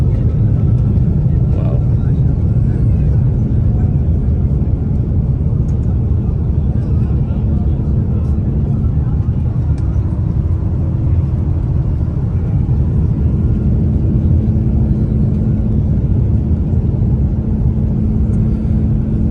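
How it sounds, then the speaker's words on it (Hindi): An airliner races down the runway on its takeoff roll, heard from inside the cabin as a loud, unbroken low rumble and roar lasting throughout, with someone speaking over it. "तो ये हम लोग टेक ऑफ करने लगे हैं। रनवे के ऊपर जहाज़ अभी दौड़ रहा है।"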